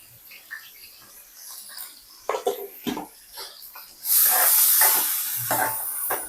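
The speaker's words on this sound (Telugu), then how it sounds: "ఇదిగో మెంతులు వేగిపోతున్నాయి కదా, సో ఉల్లిపాయ వేసేస్తున్నాను." Sliced onion dropped into hot oil with frying fenugreek seeds and coriander stems for an Andhra fish curry, giving a sudden loud sizzling hiss that stays steady after quieter clinks and scraping.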